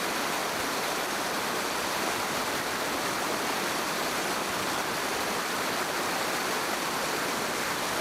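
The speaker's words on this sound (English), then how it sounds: "The water flows down underneath my feet where I'm standing, takes a turn and is heading down underneath this catwalk through the baffles" Water rushes through the baffles of a fish ladder beneath a catwalk at the Freeman Diversion in March 1992, a steady, dense, full roar that stays loud and unbroken throughout.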